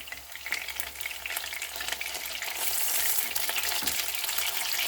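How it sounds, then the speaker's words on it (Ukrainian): Steady, loud sizzling of onion patties frying in a covered pan over low heat, a continuous crackling hiss that swells slightly toward the end, with no voices. "І на повільному вогні підсмажуємо з двох боків"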